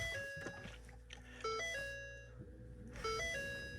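Multi-tone electronic chime sequence from a Ford C-Max Hybrid Energi dashboard at startup, several bright ding phrases repeating in bursts, close and clear in a quiet cabin.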